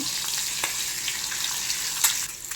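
Boiled eggs scored with a knife fry in hot oil with chili powder for a spicy hotel-style egg curry, a steady close sizzle with a few faint pops and stirring touches.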